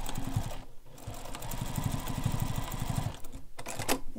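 Sewing machine basting a fabric panel together for a carryall bag, stitching in quick rhythmic bursts with short pauses between runs, close and clear.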